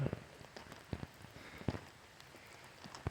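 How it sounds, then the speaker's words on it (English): Rain falls during an outdoor walk, scattered drops tapping irregularly on nearby surfaces over a soft steady hiss. "I'm getting rained on."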